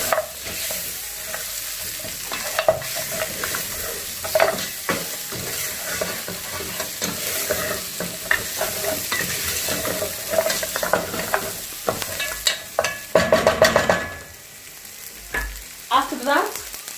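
Goat meat frying with garam masala, stirred steadily in a pan: a continuous close sizzle under repeated scraping and clinking of the spoon, with a brief louder splutter near the end.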